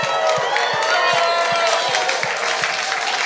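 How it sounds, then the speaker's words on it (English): Audience applause and cheering at a company showcase, a dense sustained wash of clapping with whoops from a large crowd, steady and loud throughout. "Let's give him a round of applause."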